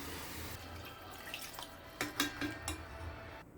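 Tamarind liquid poured into a pan of spiced fish curry, a soft watery splash and trickle with a few clinks against the pan, quiet and close, trailing off at the end.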